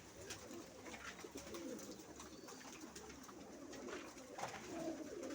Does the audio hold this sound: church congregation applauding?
no